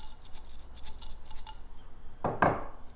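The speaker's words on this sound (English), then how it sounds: "This one is rice and it sounds like this." A homemade shaker filled with rice is shaken in a quick rhythmic burst of bright, grainy rattling pulses, followed by a couple of louder knocks near the end.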